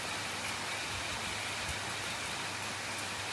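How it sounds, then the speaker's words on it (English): Steady rain falling outdoors in Kintamani, a dense even hiss of drops close by with a few heavier spatters and a faint low rumble beneath. "it's raining"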